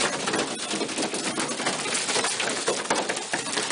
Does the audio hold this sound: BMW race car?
no